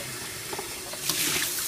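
Dirty, soapy vinyl record-cleaning solution dumped into a container, a short splashing pour that swells in its last second, close by and without speech.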